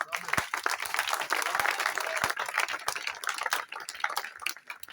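Church congregation applauding for Jesus Christ during a sermon, a dense, sustained burst of clapping with scattered cheers and voices mixed in.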